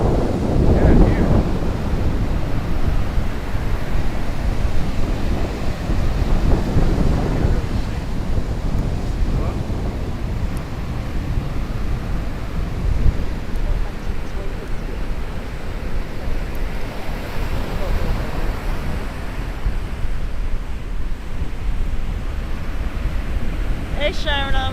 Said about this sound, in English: That's big waves, right?